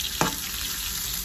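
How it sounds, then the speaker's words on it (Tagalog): Onions sizzling in a frying pan for sarciado tilapia, with a single scrape of a spoon stirring them near the start over a steady, close frying hiss. "Halo-haloin na natin ang ating sibuyas"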